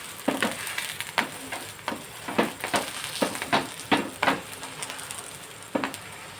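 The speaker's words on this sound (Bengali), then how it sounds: "এবার একটু চেপে চেপে ভাজবো এই পিঠটা।" Gola ruti flatbread frying in hot oil while being pressed down, a soft sizzle underneath with a series of sharp crackling bursts at irregular intervals, close by.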